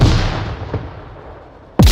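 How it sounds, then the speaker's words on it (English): A grenade explodes in the Onward VR shooter game with a loud boom and a long decaying rumble, then a second sharp blast cuts in near the end. "Here comes a nade toss somehow."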